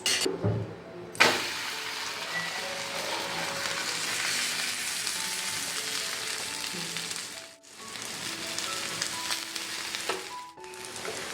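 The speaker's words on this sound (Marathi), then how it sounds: "तव्यावर थोडंसं तेल टाकते आणि दुसरा थालीपीठ टाकते" Thalipeeth flatbread, a fasting-day recipe, fries in a little oil on a griddle with a continuous close, loud sizzle that briefly dips and surges as the flatbread is added and moved.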